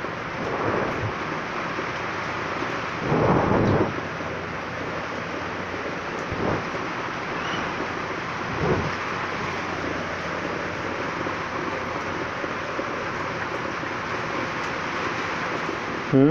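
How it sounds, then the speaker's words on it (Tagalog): Heavy rain from Typhoon Ulysses in Pasig pours steadily as a dense, continuous roar, with a few louder surges like distant rumbles or gusts. "Wala na, ulan na lang, ulan na lang malakas."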